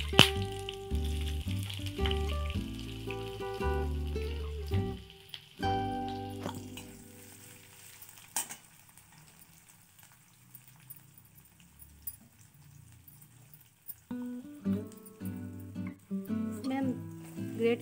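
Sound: cumin seeds sizzling in hot oil

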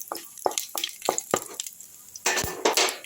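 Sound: dried chilli, bay leaf, cumin tempering stirred in hot oil

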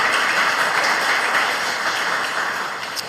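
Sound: audience applause

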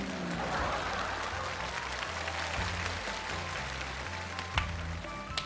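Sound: audience applause

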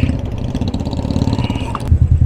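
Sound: motorcycle engine while riding

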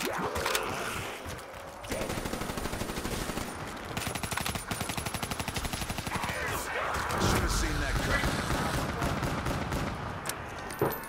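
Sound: gunfire in Black Ops 3 zombies video game

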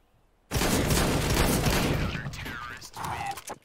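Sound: P90 gunfire in a video game

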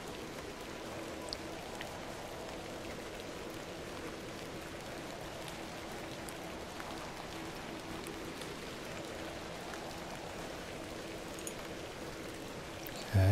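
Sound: rain falling in a video game

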